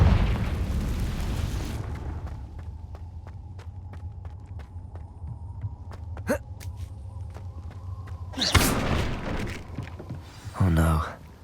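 A Confringo spell blast in the Hogwarts Legacy video game lands with a sharp boom over rumbling game ambience and steps, followed by a second burst of noise near the end.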